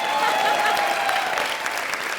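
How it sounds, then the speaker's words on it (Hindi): A studio audience on a Hindi TV comedy show claps loudly and continuously, a dense, close wash of applause holding steady throughout, with crowd murmur mixed in. "तू क्यों रुक गया ताली बजाते हुए?"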